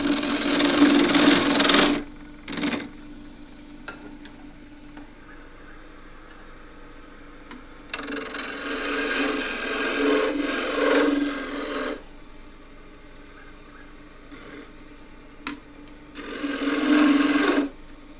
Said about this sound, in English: This is a 1-inch skew chisel. Going to use it as a peeling cut.